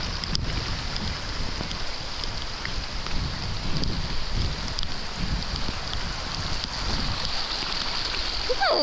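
Floodwater from heavy rain in Bulawayo, Zimbabwe rushes steadily like a stream, a continuous loud wash with gusty rumbling and some wind noise on the microphone.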